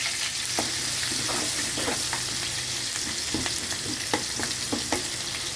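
Onions fry in hot oil for a dry fish curry, giving a steady, dense sizzle throughout with scattered light pops and spoon taps, close and continuous with no talking.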